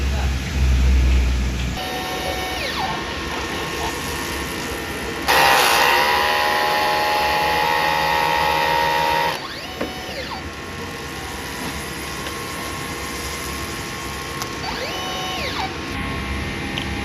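DTF printer during a print head cleaning cycle: whirring motor and mechanical ratcheting with rising and falling servo whines as the carriage moves, plus a louder stretch of pumping hum in the middle, all close by.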